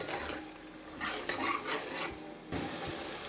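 A spoon scrapes and stirs okra and chicken with masala, chili powder and coriander powder in a pan, with soft rasping clinks and shuffles that come and go at close range.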